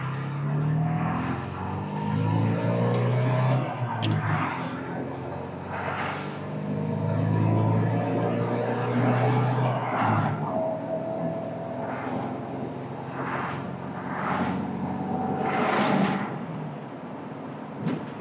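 A 1977 MGB pulling away in first gear, its engine note rising and falling steadily as it accelerates, with a few brief knocks and clunks over the engine drone.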